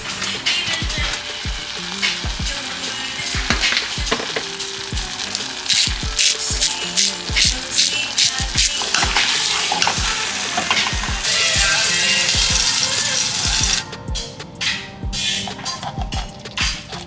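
Steak frying in a pan with butter and seasoning gives a dense, steady sizzle and spatter, with frequent sharp clicks and taps of a utensil against the pan throughout, loud and close with no talk.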